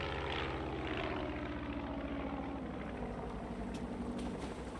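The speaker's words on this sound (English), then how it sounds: "That's a plane." A propeller airplane passes overhead with a steady, loud, droning engine hum and a rhythmic beating throb that holds for the whole stretch, with no talk.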